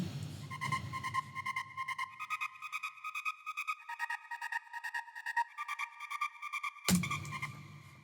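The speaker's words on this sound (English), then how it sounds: "Then an FX pad." A synthesizer FX pad pulses in steady, rhythmic bright tones with sustained layered pitches that shift slightly, closing with a sudden louder broadband hit near the end.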